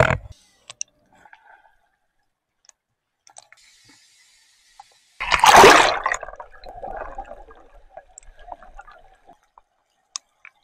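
One sudden loud splash as someone enters the water, followed by several seconds of fading sloshing and churning, then near silence with occasional small clicks and drips.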